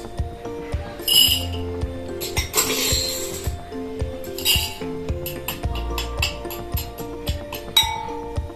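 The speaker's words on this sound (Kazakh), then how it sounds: "Майды құйып, 2 үлкен қасық жүгеріні саламыз." Oil poured and two large spoonfuls of popcorn kernels tipped into a dish make a series of bright metallic clinks and scrapes, with a rattling patter of kernels, close and fairly loud, while a voice speaks.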